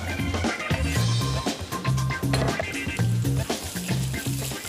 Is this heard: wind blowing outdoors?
no